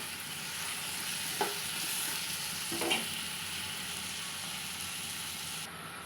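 Ginger garlic paste and tomato pieces sizzle steadily in a pan for a mushroom, meal maker and cashew curry, with two soft stirring knocks over the continuous frying hiss.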